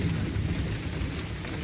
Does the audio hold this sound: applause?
no